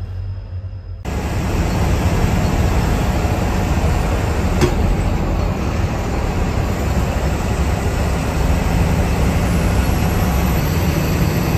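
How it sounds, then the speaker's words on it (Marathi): Loud, steady rumbling roar at the Nanded railway station beside the bus stand, a broad continuous noise that swells in after a quieter opening and holds unbroken throughout. "आता बघू शकताय आवाज येतोय रेल्वेचा."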